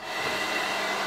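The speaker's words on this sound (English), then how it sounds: "I have a hair dryer" A hair dryer blows steadily with a loud, even whooshing hiss and no voices.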